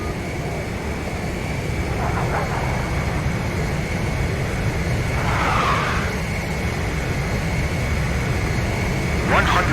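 A jet engine in the video game Ace Combat 5 whooshes in a steady, moderately loud roar during aerial refueling, with short bursts of radio-style chatter over it.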